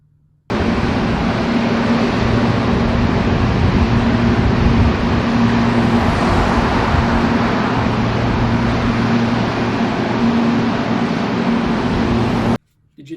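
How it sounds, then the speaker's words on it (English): Large cooling fans on cryptocurrency mining machines at a facility in Niagara Falls, a loud, steady broadband whoosh with a faint tonal hum, starting abruptly and droning without change before cutting off at the end. "listen to the noise that's coming from the large cooling fans and the machines that are used there."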